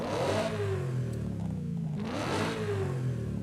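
A car engine in the video game Forza Horizon 5 revs up twice in quick succession, each rise whining higher before dropping back, loud and close with no voices.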